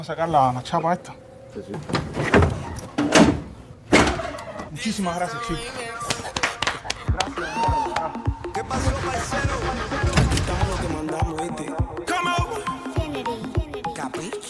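An old car in Cuba, one that is slow and an adventure to drive, being started after cooling down: mechanical clunks and a cranking engine that catches and runs, with people talking throughout.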